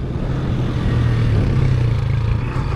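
Motorcycle riding over a potholed, bumpy street, with a continuous loud, low engine drone and rumble throughout and no voices.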